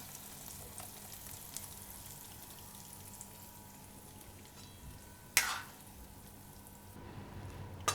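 A hot Kashmiri chili tempering poured over palak paneer, a steady faint frying hiss with a sudden sharp sizzling burst midway that quickly fades back to a low simmer.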